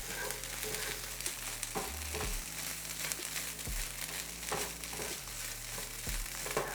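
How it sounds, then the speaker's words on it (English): Vegan apple sausage filling being stirred with seasoning in a bowl, a soft steady scraping and squishing with irregular crinkly strokes, close and continuous with a low hum underneath and no talking. "So I'm just going to mix this up here"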